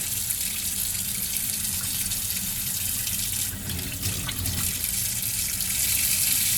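Tap water gushing steadily from a faucet into a sink while ferrets are bathed, a continuous close, loud rush that barely changes for several seconds.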